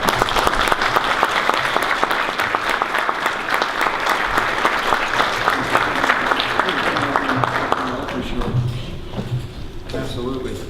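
An audience applauds to welcome a keynote speaker at an employer awards event, a dense sustained clapping from a large room that thins out toward the end as a voice begins speaking.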